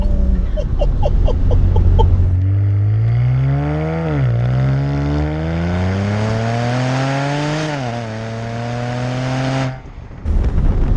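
A 539 bhp BMW 335i Touring's engine pulls hard from low revs, climbing loud and close through short-shifted gears with brief dips at each change, then drops away near the end.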